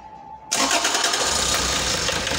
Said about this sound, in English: We'll crank and we'll start the engine